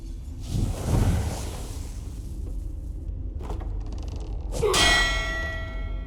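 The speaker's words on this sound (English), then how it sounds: "Who rang the bell?" Bell rung in a fantasy video game, a single metallic clang rising out of a rumbling, whooshing ambient bed and ringing on with shimmering overtones toward the end.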